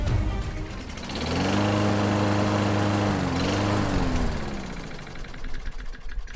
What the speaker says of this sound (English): Having a hard time getting that mower started?